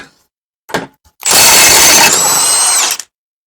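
A Milwaukee power tool breaks loose and spins out a 32 mm rear sub-frame bolt on a 2007–2017 Jeep Patriot, Compass or Caliber: a couple of short clicks, then one loud, continuous whirring burst of about two seconds that stops abruptly.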